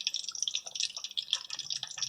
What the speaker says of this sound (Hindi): मैं डिप करूँगी और ऑयल में डीप फ्राई करने के लिए डाल दूँगी